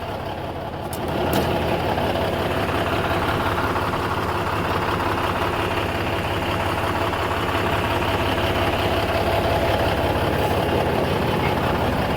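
A 2002 Kenworth truck engine idles in a steady low rumble, unchanging and fairly close, with no voices.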